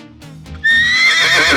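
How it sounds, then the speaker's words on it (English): A horse gives a single loud, close neigh, rising sharply into a shrill whinny after a brief lower snort at the start. "This is a horse."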